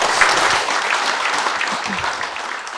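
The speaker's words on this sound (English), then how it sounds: "I'm going to thank these two guys and invite some applause" Audience applause for two speakers at a Jade user group event, a steady wash of clapping from a crowd in a hall, moderately loud and continuous throughout the brief stretch.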